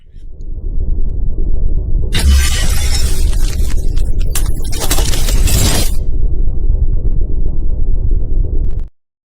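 Loud glass shattering and breaking, a burst of crashing shards over a rumbling low roar that runs steadily for about nine seconds before cutting off abruptly.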